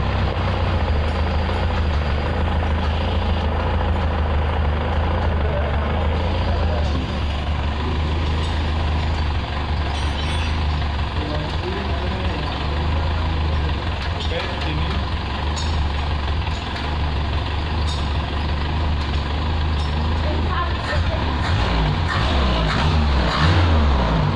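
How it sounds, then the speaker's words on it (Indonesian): A petrol engine runs at idle after a tune-up, giving a loud, steady low rumble with a constant drone that persists evenly throughout, with no speech. "Lalu kita turunkan putaran mesinnya hingga idle."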